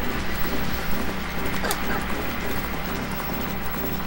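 Galloping horse hooves in The Legend of Zelda: Majora's Mask, a steady rapid clip-clop running throughout under game music and a voice talking over it.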